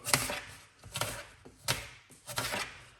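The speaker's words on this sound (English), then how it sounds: "We're gonna cut up 2 medium-sized apple" Four crisp knife chops through apples on a cutting board, spaced roughly evenly, close and fairly quiet with short pauses between strokes.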